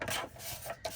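Paper journal cards are trimmed close up, a continuous rough rasping and scraping of blade through cardstock with uneven swells and a short sharper stroke near the end.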